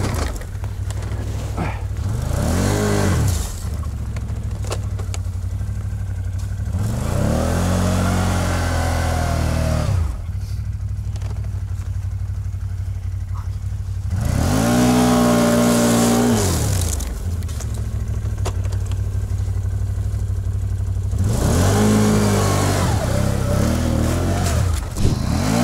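A BRP off-road vehicle engine revs hard in several long, loud bursts, rising and falling in pitch as it crawls over rough ground while winching, with steady engine idle between the bursts.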